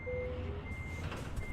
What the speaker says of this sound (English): why is it still beeping and staying in reverse?